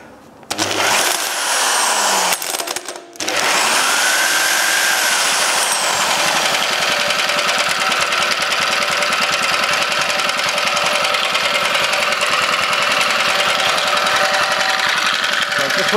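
Small engine with its fuel tap turned off starts after a few sharp bursts, then settles into a steady, loud, rattling run close by.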